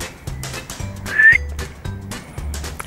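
A person tries to whistle for a dog outdoors, giving one short, thin, breathy tone over soft rhythmic thumps in a quiet setting.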